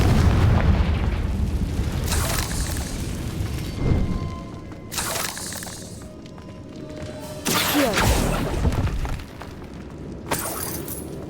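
Heavy booming blasts from the Confringo spell in Hogwarts Legacy burst out in several separate bursts, each with a crackling, shattering tail, amid in-game ambience.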